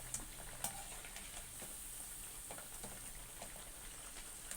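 Poha vada (aval vadai) frying in hot oil, a steady close sizzle with small crackling pops throughout, no voices.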